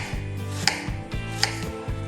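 A knife slices mushrooms very thin on a cutting board, giving a quick series of light, close taps and knocks at an even rhythm, with no voices.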